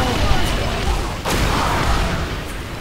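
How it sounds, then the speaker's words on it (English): Called-in artillery strike in The Bureau, a dense rumbling barrage of explosions with one sharper blast near the middle, loud and continuous over a short stretch. "Get me artillery! There! Ordnance inbound! Fire in the hole!"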